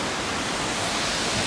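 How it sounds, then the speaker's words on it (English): A waterfall pours into a gorge as a steady, loud broadband roar of rushing water, continuous and close, with no break across the short stretch. "The waterfall's lovely. What a gorge."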